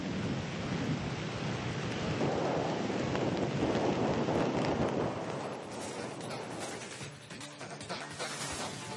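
Heavy monsoon rain pours in Mangaluru, Dakshina Kannada, a dense continuous roar with wind buffeting the microphone and deep rumbles of thunder rolling underneath, easing slightly toward the end.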